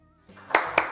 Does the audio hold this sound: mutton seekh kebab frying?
no